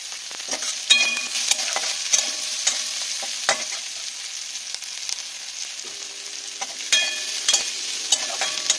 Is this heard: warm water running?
no